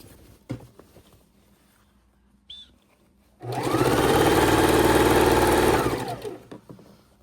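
A sewing machine stitches a quarter-inch seam on a patriotic quilt in one loud, steady run of about two and a half seconds, after a few soft handling clicks and before it stops and winds down.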